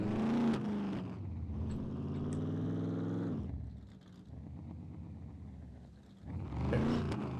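A larger car in the survival video game SCUM cranks and tries to start, a near engine drone that holds, dips, then rises again in two bursts, with no talk.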